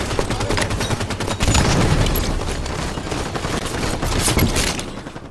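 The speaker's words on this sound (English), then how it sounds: "Mick, I just got shotgunned by Mick Win." Rapid gunfire in the video game Warzone, a loud dense fusillade of overlapping shots and bursts that swells and fades in waves over a few seconds with no voices.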